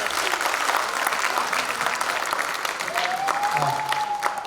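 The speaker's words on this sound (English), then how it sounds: "can I just request a heads up and a huge clap for all the teachers and all the staffs for this" A crowd of parents at a preschool annual day event claps loudly and continuously for the teachers and staff, dense applause close by with a brief whistle-like tone rising near the end.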